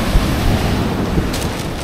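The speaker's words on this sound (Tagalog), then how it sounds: "Pero ang ganda kasi ang laki ng alon." Big sea waves surge at high tide on a windy coast by a seaside cave in Mauban, Quezon, as a loud, steady roar of surf with wind rumbling against the microphone.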